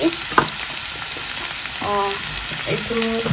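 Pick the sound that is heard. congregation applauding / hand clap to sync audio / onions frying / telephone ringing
onions frying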